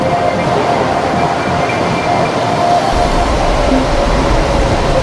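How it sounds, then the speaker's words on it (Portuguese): A São Paulo metro train pulls into a station with a steady rumble and rail noise that swells to a deeper roar near the end, continuous and fairly loud, without talk. "Nós vamos esperar passar agora um trem."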